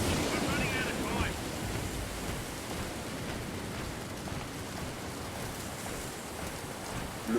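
Stormy wind and crashing waves in the Dead Island Riptide video game, a steady broadband roar of surf and gusts that stays loud and continuous throughout.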